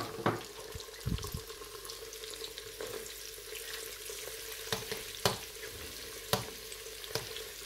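Breaded pork strips sizzle steadily in shallow oil, a dense hiss close up with scattered sharp pops and clinks of a utensil over several seconds.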